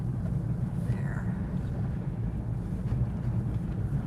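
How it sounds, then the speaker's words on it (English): Wind buffets a car window while driving through an abandoned town on Adak, Alaska, a steady low rumble and roar. "The window is a little bit windy."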